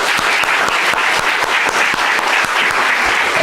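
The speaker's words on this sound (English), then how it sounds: "Let me applaud you." Steady, dense applause from a crowd fills the room without a break, with scattered sharper individual claps standing out through the wash.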